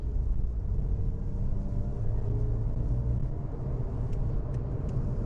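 Porsche 911 997.2 Carrera 4S driving in third gear in Sport Plus mode, its steady engine rumble and road noise droning continuously throughout, heard from inside the car with no talking.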